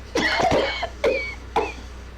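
Three close, harsh coughs in quick succession, the first a longer rasping burst and the next two shorter single hacks with brief pauses between them.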